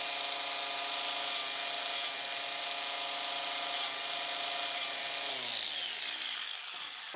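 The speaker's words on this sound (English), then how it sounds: "I'm sawing and grinding because this project doesn't warrant the precision and setup time for milling" Metal sawing on stainless steel, a steady continuous rasping drone with a machine hum that winds down near the end, with a few brief sharper scrapes along the way.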